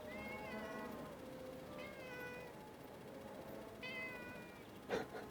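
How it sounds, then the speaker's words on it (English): A pet cat meows three times in a quiet outdoor setting, each call drawn out and close, spaced a couple of seconds apart, followed by a short rustle. "Some of you know my cat Otto."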